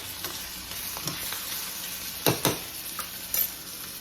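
Peppers stirred in a hot clay pot, a constant frying sizzle broken by several sharp scrapes and knocks of the utensil against the pot, close up and with no voices.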